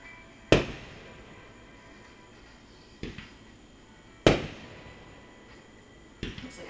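Fireworks bursting at a 4th of July celebration: sharp bangs at irregular intervals, moderately distant, each trailing into a crackling fade with no talk.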